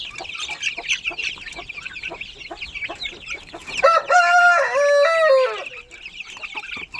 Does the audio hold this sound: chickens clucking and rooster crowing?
yes